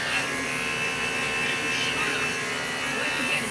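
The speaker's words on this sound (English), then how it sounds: "And tipping the clipper on an angle here is very helpful" Hair clipper buzzing steadily up close while cutting a low skin fade, the blade tipped on an angle; a continuous electric hum with no pauses and faint shifts as it moves across the head.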